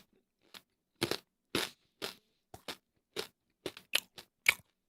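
Crunchy shiitake mushroom being chewed up close, about ten sharp, separate crunching bites in an irregular rhythm with silence between them, no talking.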